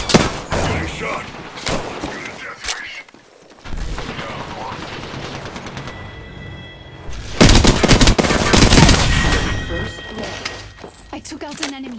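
Video game gunfire rattles in bursts of rapid shots and a sharp blast, loud and close, broken by a short quiet gap and mixed with game voices speaking over the action.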